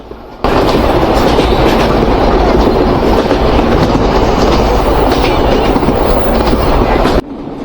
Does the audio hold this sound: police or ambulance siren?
no